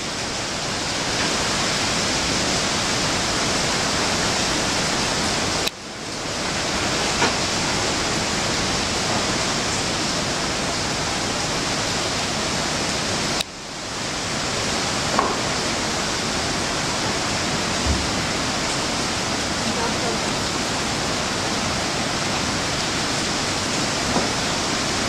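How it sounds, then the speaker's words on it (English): Strong hurricane wind during Hurricane Tomas in St. Lucia, a loud continuous roaring rush that fills the whole clip, briefly dipping twice before surging back, with no voices. "Oh, here comes a big wind."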